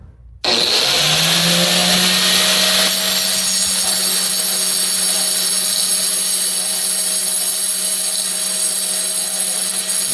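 A small grinding disc spins up abruptly and holds a loud, steady high whine while sharpening stump grinder teeth by hand under light pressure, with a faint rasp of metal contact throughout.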